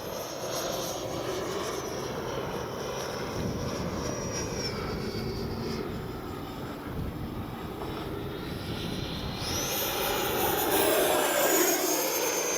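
An E-flite 90mm Viper RC jet flies overhead with a continuous loud ducted-fan whine and roar that builds as it passes close toward the end.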